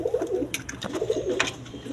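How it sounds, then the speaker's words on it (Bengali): A pair of restless Modena pigeons coo in low repeated bursts, close by, with a few sharper rustling flutters and wing sounds breaking in between the calls. "মডার্না কবুতর দেখেন, খুব লাফালাফি ফালাফালি করতেছে, একদম চঞ্চল কবুতর"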